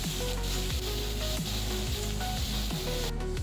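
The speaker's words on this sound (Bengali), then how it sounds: "পেঁয়াজগুলো ভালোভাবে ভেজে নিচ্ছি" Chopped onions sizzle and fry in a pan for paneer masala, a steady close crackling hiss with occasional soft stirring scrapes throughout.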